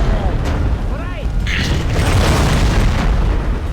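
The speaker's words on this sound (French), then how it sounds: "Explosion!" A loud explosion in The Godfather II video game rumbles through dense, continuous game noise, with brief higher bursts layered over it.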